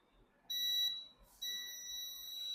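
A multimeter on continuity mode beeps while probing a capacitor on a circuit board, giving two clear high electronic tones, the second sustained to the end, against a quiet background.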